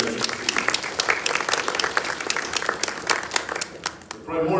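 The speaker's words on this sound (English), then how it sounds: "We give them a round of applause for taking care of us." An event audience gives a round of applause for the staff, with dense, lively clapping that continues steadily and then tapers as a voice begins speaking.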